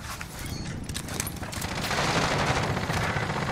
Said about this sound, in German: Da unter der Treppe ist einer, schießt auf mich!